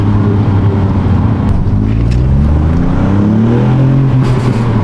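A 2022 Ford Puma ST with a cheap aftermarket cat-back exhaust, lifting off on a downshift: a loud, close engine drone falls and rises in pitch, with a few faint crackling pops scattered over it.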